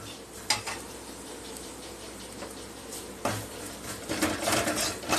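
Fish curry masala for Tirunelveli meen kuzhambu being sautéed and stirred in a pan, soft sizzling under a few sharp clinks and scrapes of a spoon against the metal, close and fairly quiet.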